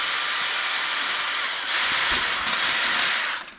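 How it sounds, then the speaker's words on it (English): A drill with a warped, cutting-oiled bit bores through thin steel into aluminum, giving one loud, continuous high whine that dips briefly midway and then tails off as the bit breaks through. "I've already put a little cutting oil on the drill bit, and then just drill."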